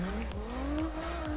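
An Asura M1 drift car tuned for drifting in a video game, tires squealing in a loud, steady screech over a rising engine note that holds for the whole moment.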